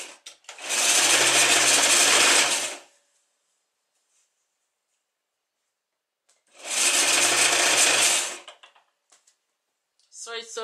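A sewing machine stitches a knitted skirt in two loud, close, steady bursts of rapid whirring about two seconds each, separated by silence, with a faint handling sound at the end.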